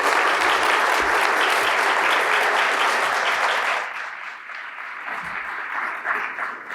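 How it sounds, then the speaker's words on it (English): A conference audience applauds loudly and steadily for several seconds, then the clapping thins out and fades to scattered claps and room noise. "with a big, friendly Protection Review round of applause"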